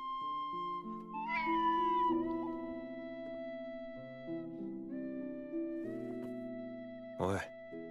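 An animated cat meows several times against a sustained tonal music bed, with a sharp rising cry near the end.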